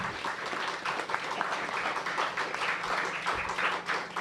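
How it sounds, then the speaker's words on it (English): Audience applause at the DC Statehood Constitutional Convention rolls on as a soft, distant, continuous patter for several seconds without letting up. "They deserve your applause and hurrahs"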